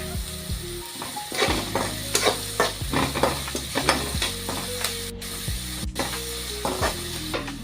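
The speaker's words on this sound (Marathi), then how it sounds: "बारीक चिरलेला कांदा आहे, त्याला आपण चांगलं परतून घेणार आहोत" Finely chopped onion sautés in a pan for a sevai upma, a steady close sizzle broken by frequent scraping stirs of a spatula against the metal, with no voices.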